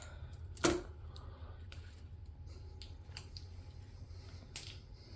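One sharp snip of scissors cutting a flower stem while a two-tier floral arrangement is made, followed by faint small clicks and handling rustles in a quiet room.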